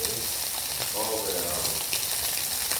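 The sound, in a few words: chicken frying in sizzling oil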